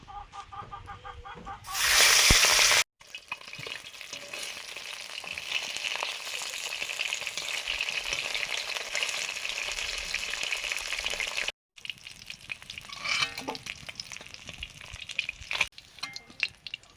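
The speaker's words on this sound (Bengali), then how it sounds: "ট্যাংরা মাছগুলো ভাজবো।" Steady oil sizzling and crackling from tangra fish frying in a pan, close and continuous, with a brief louder burst near the start and a short gap later.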